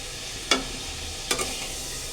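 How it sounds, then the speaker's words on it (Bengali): Shrimp fry in oil in a wok, a soft steady sizzle broken by two sharp scrapes or stirs, close by and with no voices. "তো আমি চিংড়িগুলোকে আগে লবণ দিয়ে তেলে ভেজে নিই"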